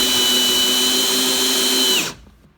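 A Parkside Performance brushless cordless drill, model PABSP 20-Li A1, drives a screw straight in without a pilot hole: a loud, steady motor whine with no voices that holds for about two seconds, then stops abruptly.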